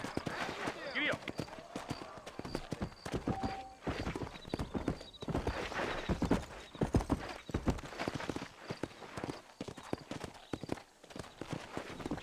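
A horse gallops in Red Dead Redemption, clip-clop hoofbeats running steadily and fairly loud throughout, with a whinny and a rider's urging voice heard over the game sounds.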